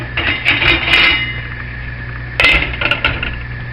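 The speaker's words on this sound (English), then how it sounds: "So I'm going to put it on my little simmer mat." A cooking pot of beef stroganoff being set down on a metal simmer mat on a stovetop, giving a couple of brief metallic clinks and scrapes over a low hum.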